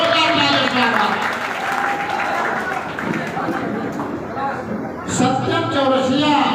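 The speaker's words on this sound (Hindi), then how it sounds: "जोरदार तालियों से स्वागत।" Loud, sustained applause from a crowd at an award ceremony fills the space, steady clapping that briefly swells near the end.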